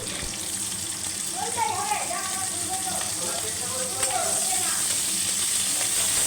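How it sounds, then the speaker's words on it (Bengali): Diced onion frying in two spoonfuls of hot mustard oil, a soft continuous sizzle with faint stirring and light clinks, a thin high hiss rising toward the end. "দু চামচ সর্ষের তেল গরম করে নিয়ে ডুমো করে কাটা পেঁয়াজটা দিয়ে দিলাম"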